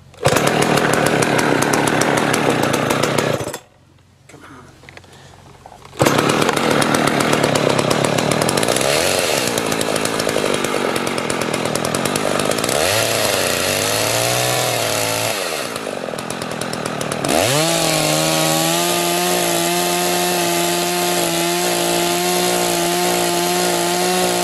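A dull chainsaw cutting bowl turning blanks from a sandy log, loud and close, its engine roaring through long cuts, dropping briefly to idle, then revving up again and running steadily.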